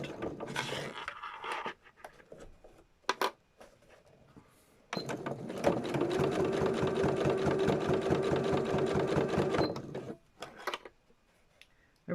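Sewing machine running steadily as it stitches Gelli print fabric for a journal, a close, even motor whir lasting several seconds after a few short starts and clicks.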